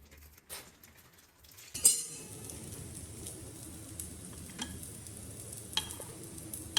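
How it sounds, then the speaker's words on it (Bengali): Spicy meat curry frying in a little ghee in a pan, a soft steady sizzle with occasional spoon stirs and light clinks against the pot. "একটুখানি ঘি দিয়ে ফ্রাই করছি অল্প করে ঘি দিয়ে"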